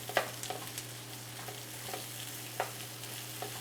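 Broccoli stir-frying in a pan for a vegetable stir-fry with peanut sauce: a soft, steady sizzle with occasional stirring clinks and taps, no talking, over a faint low hum.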